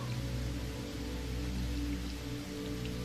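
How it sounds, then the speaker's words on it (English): Gentle rain falls steadily, a soft continuous patter and hiss of drops under a low hum, even and calm throughout with no voice over it. "the echo of gently falling raindrops that you are hearing"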